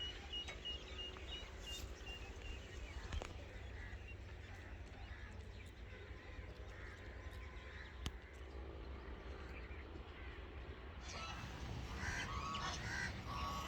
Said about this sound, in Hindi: हम जा रहे हैं बतखों के पीछे और बतखें जा रही हैं मेरे ख्याल में घर